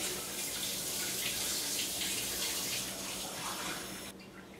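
Very cold tap water runs steadily from a faucet into a measuring cup, a continuous close splashing hiss that cuts off abruptly near the end.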